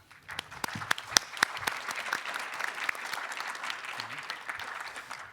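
At a university presidents' general assembly, a roomful of attendees claps in thanks for the deputy prime minister, with a few sharp isolated claps swelling into steady, moderately quiet applause that continues evenly to the end.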